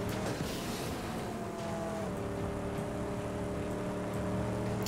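Car engine in the Mad Max video game, a sustained loud droning roar with steady harmonic hum, continuous throughout with no voices.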